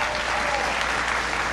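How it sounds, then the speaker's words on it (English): A crowd applauds steadily, a dense wash of clapping that holds at an even level throughout. "Give them a big round of applause."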